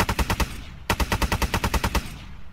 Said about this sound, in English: Pretty good full auto rate of fire.